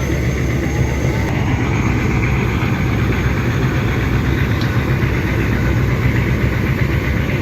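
Two passenger launches, Tipu 14 and Karnaphuli 12, racing on a river, their heavy engines producing a loud, steady low droning rumble with no break throughout.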